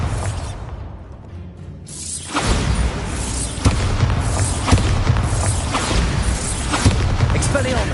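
Bombarda blasting spells from Hogwarts Legacy burst in a loud, dense run of booms and crashes with whooshing debris, starting after a brief quieter lead-in and continuing as repeated impacts.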